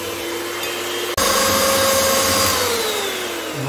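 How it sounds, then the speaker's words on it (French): Electric hand mixer whisking apple cake batter, a steady close whirring drone that cuts out for an instant, then resumes at full strength. "Moi, je vais utiliser le batteur pour avoir un gâteau qui est bien léger"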